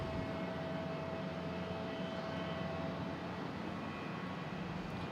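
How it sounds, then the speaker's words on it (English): An American Airlines Embraer E175 jet arrives at Boston Logan from JFK with a steady, broadband engine roar and a faint whine, continuous and moderately distant, with no voices. "Coming in from JFK in E175, flight 4708"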